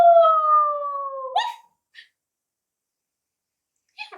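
A dog gives a long, smooth howl that slides gently downward, followed by a few short, sharp yips spaced out by silence, clear and isolated.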